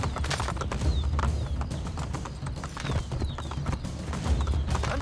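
Horse hooves clip-clop at a steady trotting rhythm in the video game Assassin's Creed Brotherhood during an escape from Castel Sant'Angelo, clear and close with a few faint in-game noises around them.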